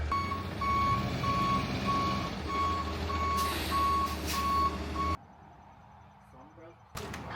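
A delivery truck bringing pallets backs up with a steady series of loud electronic reversing beeps over a low diesel engine rumble, with a few clanks and brief bursts of noise before the engine cuts out abruptly.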